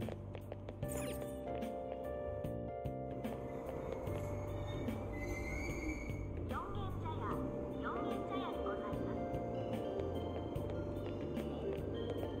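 A train in Persona 5 Royal rumbles and squeals steadily on its rails for the whole stretch, continuous and fairly close, with a person talking over it throughout.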